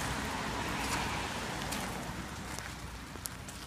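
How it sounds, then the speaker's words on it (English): Light rain falls in a soft continuous hiss with scattered faint drips and taps, quiet and even across the short stretch, with no voices. "Rain, rain, rain."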